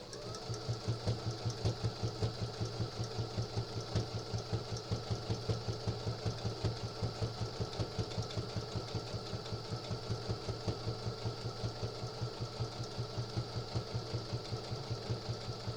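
A sewing machine runs steadily throughout, its rapid even stitching rhythm and motor hum continuous and close, with no talking.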